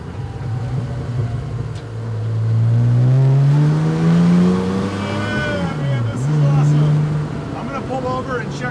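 A car engine with a freshly upgraded drivetrain revs up and then gurgles and burbles as it decelerates, its pitch rising and falling over several seconds, loud and close from inside the moving car.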